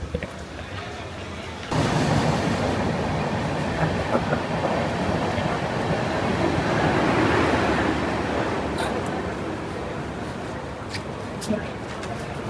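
A train rumbles along the rails into Nalasopara station with a continuous rolling clatter, loud and steady throughout, with faint voices and a few brief squeaks near the end.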